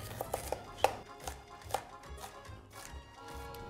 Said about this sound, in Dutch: gaan we ook in blokjes snijden